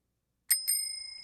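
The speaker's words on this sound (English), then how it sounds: "What about the bike bell?" A bicycle bell rings twice in quick succession, a bright metallic ding-ding with a sustained shimmering ring fading out afterward, played alone and clean after a moment of silence.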